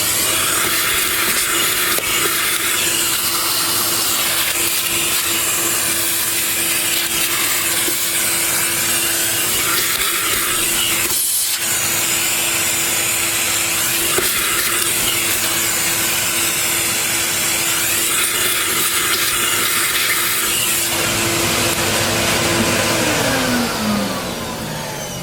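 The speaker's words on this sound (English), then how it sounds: "See if I can use the vacuum to clean it." A Nilfisk Extreme vacuum cleaner roars loudly and continuously while it cleans its own filter area, its pitch shifting slightly as the nozzle moves, with one short dip midway through.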